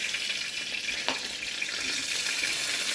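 Cumin seeds sizzle in hot oil in a home kitchen pan, a steady close hiss with soft crackles and one brief sharper pop, with no talking.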